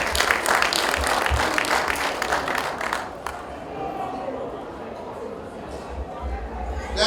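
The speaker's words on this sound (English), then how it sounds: "Please let's give a round of applause to Iru Kingdom." Audience applause at a coronation week gathering in Lagos, a dense burst of many hands clapping that fades after about three seconds into murmuring crowd noise.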